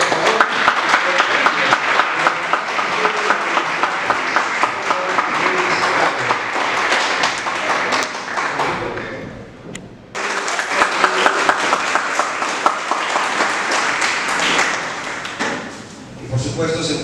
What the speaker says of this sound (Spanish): la vamos a recibir con un fuerte aplauso, por favor